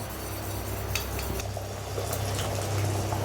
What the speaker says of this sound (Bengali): এবারে যেরমভাবে ডিমের অমলেট করো তোমরা সবাই, সেরমভাবেই ডিমের অমলেটটা করে নেবে।